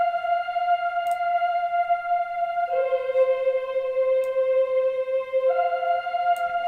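A Boys Choir patch from the Omnisphere synth sings a slow, sustained melody of a few long held notes for a hip-hop beat, soft and clean with no voices speaking.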